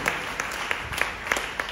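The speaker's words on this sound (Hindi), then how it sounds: "जोरदार ताली बजा देंगे यीशु की महिमा के लिए।" A church congregation in Chandigarh applauding during a testimony service, moderate crowd clapping with scattered sharper individual claps standing out.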